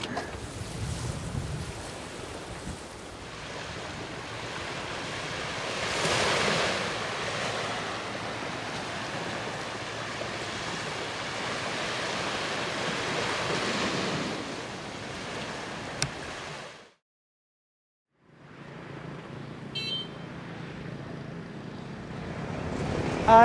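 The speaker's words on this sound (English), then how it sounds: "And a sea breeze as well." Coastal sea breeze and surf near a tunnel entrance in Vietnam's DMZ, a steady broad wash of wind and waves that swells midway, then cuts out briefly before resuming.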